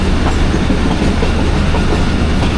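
A train rolls slowly through Chaklala station without stopping, its steady rumble and wheel clatter close and continuous throughout.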